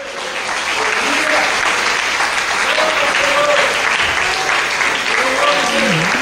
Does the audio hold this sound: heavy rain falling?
no